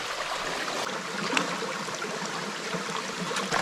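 A brook flows down carved bedrock in a Vermont valley, filling small pools, giving a steady close wash of trickling water with no voices.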